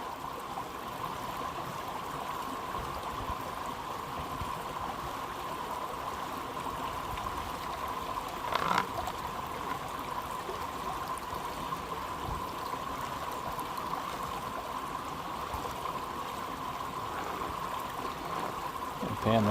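A gold pan swirled and washed in water while panning for gold, a continuous trickling, rushing water sound with a steady hiss and a few splashes, close and fairly even throughout.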